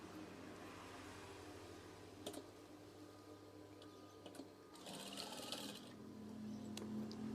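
A sewing machine stitches folded curtain fabric, humming faintly with a steady low drone, a few ticks, and a brighter burst of fast stitching before the motor rises toward the end.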